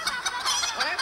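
Children's voices imitate a hen or chicken, overlapping clucks in a rapid, bright chorus from a crowd at a live concert.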